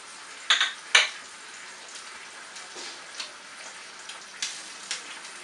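A pan scraped and shifted across a hot stove, two sharp metallic clanks near the start followed by softer scattered taps and light sizzling, fairly quiet overall.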